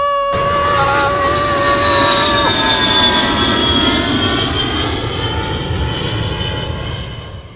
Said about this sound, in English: Now let's start up the spaceship that will take us to the planet of Nicotine Safety.